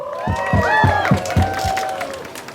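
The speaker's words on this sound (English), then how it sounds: "Big applause for Tcsl." A crowd at a rally against the Uyghur genocide cheers and shouts, with rising and falling voices over a run of rhythmic low thumps, loud and close before fading.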